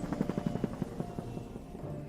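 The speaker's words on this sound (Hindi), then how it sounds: "हेलीकॉप्टर? यस।" Helicopter sent to pick someone up, its rotor thudding in a steady rapid beat with engine drone, fairly close and continuous, with no talk over it.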